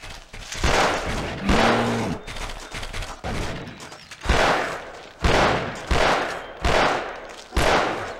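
Gunshots in the hunting video game Cabela's Dangerous Hunts 2, about eight loud, close, evenly spaced bursts of fire, each with a short ringing decay before the next.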